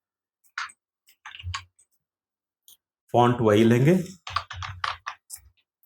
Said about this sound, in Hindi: यहाँ पे टाइपिंग शुरू करते हैं